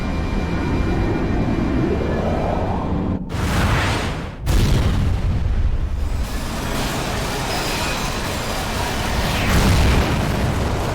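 A Fire spell in Final Fantasy XII erupts with a loud rumbling roar, a sudden sharp blast cutting through midway, then a sustained fiery whoosh that rolls on and swells again near the end.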